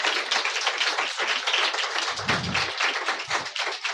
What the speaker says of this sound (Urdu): زوردار تالیاں بجائیں اس صلیب کے لیے